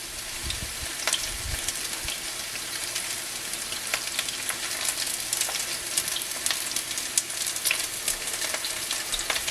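Chicken pieces for General Tao fry in a pan with a steady, crackling sizzle, scattered pops and spits rising over a constant hiss and a few soft low knocks, heard up close with no talking.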